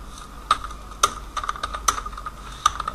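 Keys clacking on a computer keyboard while a PHP artisan command is entered, a string of sharp, uneven clicks with a few louder strikes, close and clear with no talk.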